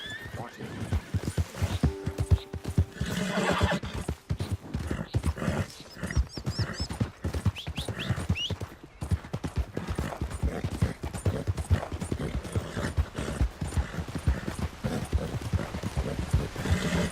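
Horse in Red Dead Redemption 2 gallops with steady, rapid hoofbeats and lets out several whinnies and neighs, loud and close throughout.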